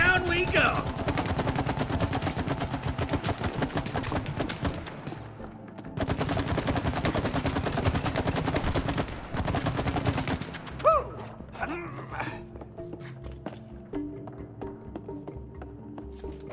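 Rapid automatic gunfire from the video game It Takes Two rattles in long, dense bursts, broken by a short pause and ending in quieter game effects and music.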